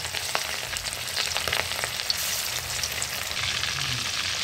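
Fish fries in very hot, smoking oil in a kadai, a dense continuous crackling sizzle, loud and close, with no talking.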